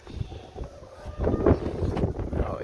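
Outdoor wind rushes and gusts against the microphone, a low rumbling buffeting that swells midway and stays fairly loud without voices.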